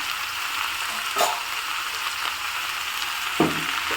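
Ivy gourd fries in a pan with a steady, even sizzle close by, interrupted twice by brief knocks of a utensil, with no speech.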